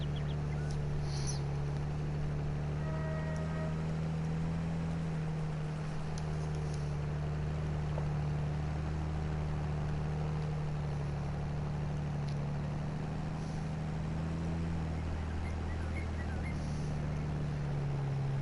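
A John Deere tractor engine in Farming Simulator 22 holds a constant low, droning hum for the whole stretch, steady and unbroken, with no voices.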